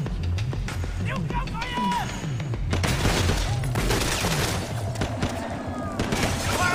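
Gunfire in the Sleeping Dogs video game, rapid bursts of shots crackling in a busy, loud mix, with a player talking over the shooting.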